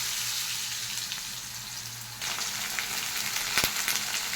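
Potatoes fry in a pan with a steady, close hiss of sizzling oil that swells louder partway through, with a few faint clinks from stirring and no talking.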